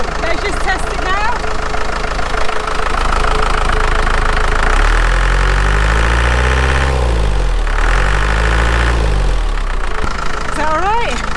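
A 32-year-old camper van engine idles close by, a steady low rumble with a slight knock that rises briefly in revs midway, while people talk over it throughout.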